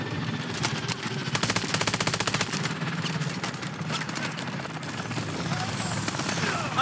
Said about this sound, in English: Atlas choppers inbound.